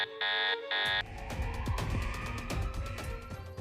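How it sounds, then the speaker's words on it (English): Aircraft emergency alarms in a 1972 plane crash: two sustained loud electronic buzzer tones at the start, then a dense clattering alarm-and-rumble chaos with repeated sharp bangs continuing to the end. "then all the emergency lights and alarms went off."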